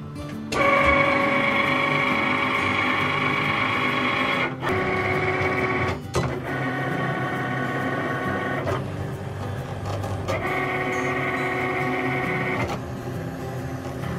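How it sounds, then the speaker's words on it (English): A Cricut cutting machine slices printed sticker sheets with a steady mechanical whir, its carriage motor running in repeated passes with brief pauses and shifts in pitch, close and fairly loud, with no talking. "So now let's see if the Cricut is gonna Cricut them."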